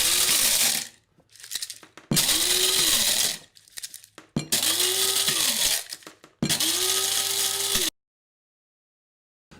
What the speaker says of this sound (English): So coffee in, and then as you're grinding,